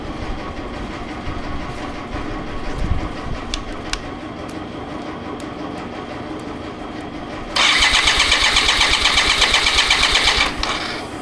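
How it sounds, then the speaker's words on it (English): A BMW K75RT motorcycle engine, with idle problems after sitting for nine years, is quiet apart from faint clicks and handling noise, then fires up loudly and runs evenly for about three seconds before cutting off. "maybe we move on to starting the bike again"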